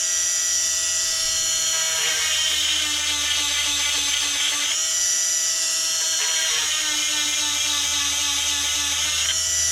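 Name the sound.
power tool sharpening chainsaw chain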